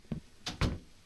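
A door in Final Nights 2, a fan-made FNAF horror game, gives a few quick mechanical knocks, then a sharper thud as it shuts. The sounds are close and brief against a quiet background.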